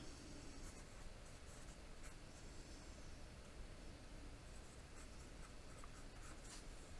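Marker or chalk writing out a logarithm math problem on a classroom board, a steady scratchy scraping that runs continuously under a noisy background hiss, with no one talking.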